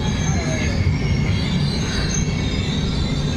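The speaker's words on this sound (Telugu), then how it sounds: "ఇది గోదావరి ఎక్స్ప్రెస్ అనమాట." The Godavari Express rumbles as it slows into a railway station, with a steady loud roar of wheels on track and thin metallic squeals running throughout, heard from inside the train.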